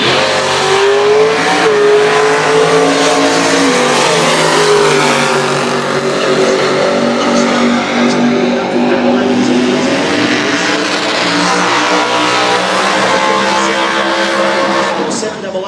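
Pro Stock drag racing cars at a winter nationals event scream down the strip at full throttle, a loud sustained engine roar with rising pitch as they accelerate, under an announcer's commentary.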